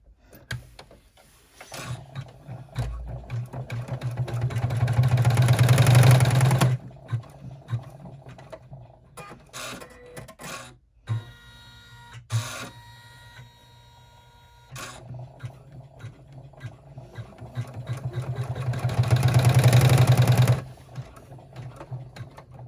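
An embroidery machine runs a stitch sequence on a small wallet project, a loud, steady rapid needle chatter that swells in long bursts and drops to lighter ticking and clicking between them, with no voices.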